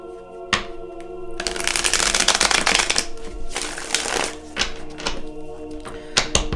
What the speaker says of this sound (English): I pre-shuffle my decks, but I just like to shuffle them one more time.